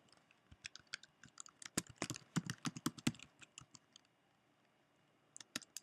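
Someone types a street address on a computer keyboard, a close, fast burst of clicking keystrokes, then a pause and a few final taps.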